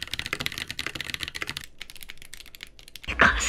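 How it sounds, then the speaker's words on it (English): Typing on a loud, clicky mechanical gaming keyboard, a fast run of sharp key clacks close to the mic that thins out partway through, followed by a brief louder burst at the end. "You can't sneak games at 3 a.m. with loud clicky keyboards."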